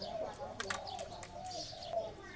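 A selected show dove cooing in soft, rounded phrases, a few low coos spaced apart, faint and somewhat distant over a quiet outdoor background.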